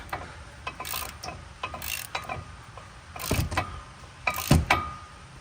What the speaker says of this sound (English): I love having a long handle ratchet.